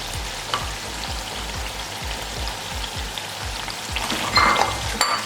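Masala sizzling and frying in a pan for mutton achari as yogurt goes in, a steady close crackle with a faint rhythmic stirring pulse underneath.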